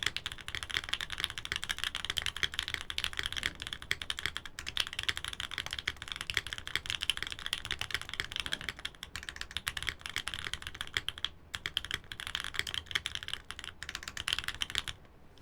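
Steady, dense clatter of keystrokes on a full brass Ciel60 mechanical keyboard, continuous close-up typing with fast irregular rhythm and no talking.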